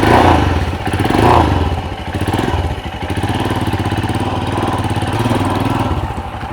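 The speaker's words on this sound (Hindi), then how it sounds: "थोड़ा बाइक चलाते हैं" Motorbike being ridden, a loud continuous engine rumble with wind buffeting and occasional thuds throughout, no talking.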